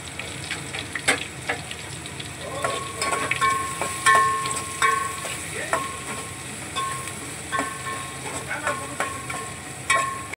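Ginger, chili and spring onion stir-fry in a pan for fried rice, with a continuous sizzle broken by frequent sharp scrapes and clinks of stirring, close and moderately loud.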